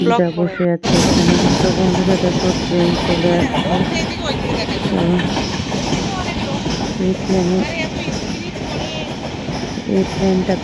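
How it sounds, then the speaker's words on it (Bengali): A train rumbles past on the tracks, loud and close, with a steady clatter and grinding under voices talking nearby. "দেখো ওই ট্রেনটাও চলে আসছে"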